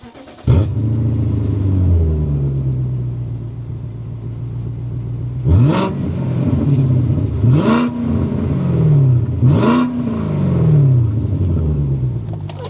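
A BMW 645ci fitted with an aftermarket exhaust idles with a deep burble, then is blipped through three or four sharp revs that rise and fall back, loud and close with no talking.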